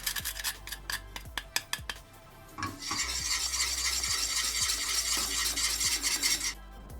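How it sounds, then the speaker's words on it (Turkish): Whole nutmeg grated into a béchamel sauce on the stove: a quick run of rhythmic rasping strokes, followed by a steady, close simmering hiss with no talking. "Çok az da muskat rendeliyorum içerisine."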